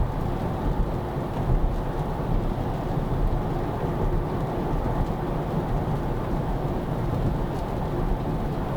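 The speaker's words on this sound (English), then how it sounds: "It's raining pretty hard." Heavy rain pounds steadily on a car on the road during a wet drive, a dense, unbroken roar of drumming water filling the whole stretch with no voices.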